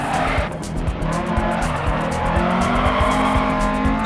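A rally car in DiRT Rally roars hard through the Baumholder, Germany stage, its engine loud and steady with rapid gear-change pulses and continuous tyre squeal and skidding on the surface.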